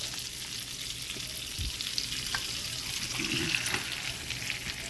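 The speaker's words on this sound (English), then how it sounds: "Make sure the butter is melted with the oil. Now I'm gonna place my steak." A T-bone steak fries in melted butter and oil, with a steady, close hiss and crackle of sizzling fat and a few brief pops and clinks, no voices.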